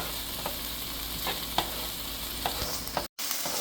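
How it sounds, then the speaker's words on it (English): Vegetables sauteing in a pan for Jamaican-American rasta pasta, a steady close sizzle punctuated by regular soft spatula stirs and scrapes, with a momentary dropout near the end. "it has been sauteing for about 10 minutes"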